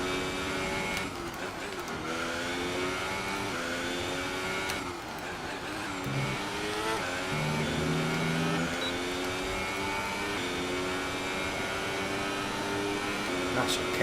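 F1 2018 racing game car engine droning steadily throughout, with shifting harmonic pitch bands as it revs, continuous and fairly loud, with possible speech mixed in.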